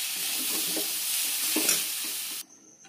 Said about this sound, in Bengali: সবজিও আমার ভাজা ভাজা হয়ে এসেছে